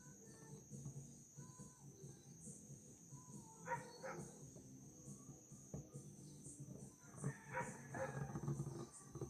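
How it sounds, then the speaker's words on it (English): A dog barks a few times at a distance, short sharp bursts over a steady background of chirping insects. "Sorry about the dog barking."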